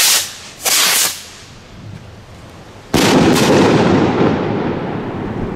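Firework bangs outdoors in strong wind: two sharp broadband blasts early on, then a louder burst that trails into a long roaring wash of wind and crackle.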